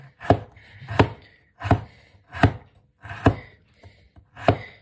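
Six sharp knife chops on a cutting board, evenly spaced about every two-thirds of a second, close and loud, cutting through mackerel.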